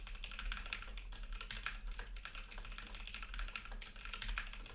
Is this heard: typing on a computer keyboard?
yes